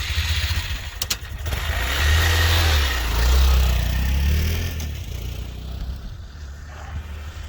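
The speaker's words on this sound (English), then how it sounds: "you actually want to add gas when you're getting out of the U-turn and going around the corner, and then brake into the turn" A Honda Grom motorcycle accelerates out of a U-turn in a parking lot, the small engine revving up in a strong low surge and then easing off, moderately close, with wind rush and no talk.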